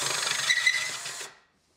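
A spoke pointer spinning at high speed as it cuts a tenon on a wooden deckchair part gives a short, brisk whirring rasp that carries on for about a second before stopping abruptly into silence.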